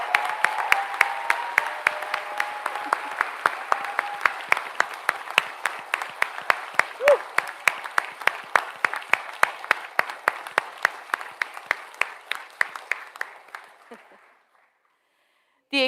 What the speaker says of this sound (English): for all of us here in the room to join in applause to thank them for everything they have done